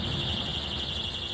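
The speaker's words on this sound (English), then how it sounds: "Fire alarm" A house fire alarm sounds during a kitchen fire: a shrill, steady electronic tone with a faint pulsing flutter, continuous and fairly close, with no talking over it.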